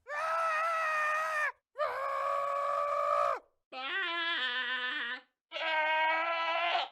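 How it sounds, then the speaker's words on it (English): Minecraft screaming goat calling four times in a row, each a loud, drawn-out, human-like scream with short pauses between. "I'm gonna look up Minecraft screaming goat sound."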